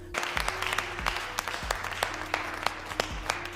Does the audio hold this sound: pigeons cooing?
no